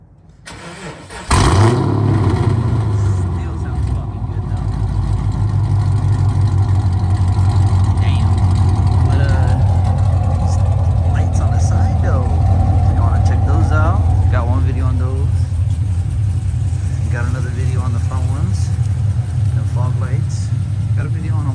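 A 2011 Chevrolet Camaro SS with a V8 engine fires up after a brief quiet moment and settles into a loud, steady, rumbling idle close by, continuing unbroken to the end.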